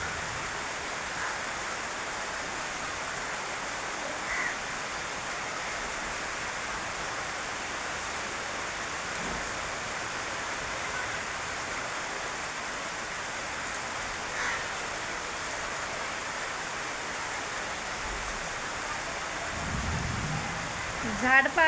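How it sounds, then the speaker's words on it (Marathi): First monsoon rain falling outdoors, a steady soft hiss of drops on surfaces and leaves, even and continuous throughout with a faint bird call now and then. "गरजू पाऊस येत आहे छान"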